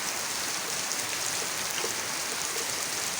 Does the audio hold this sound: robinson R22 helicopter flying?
no